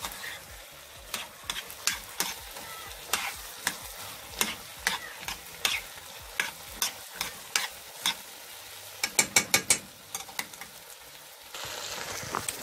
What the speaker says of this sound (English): I'm just sauteing them.